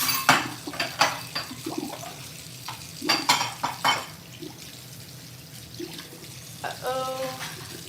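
Awkwardly stacked dishes knocked and shifted in a kitchen while a turkey lasagna is prepared, giving a run of close, sharp clinks and clatters with short pauses and some soft rustling in between.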